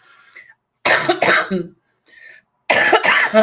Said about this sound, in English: there's my TB cough for the 2nd month in a row